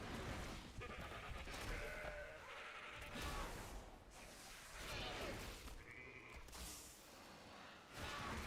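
Sheep bleat in the video game Petrified Roots, several faint wavering calls repeating over a busy electronic music backdrop.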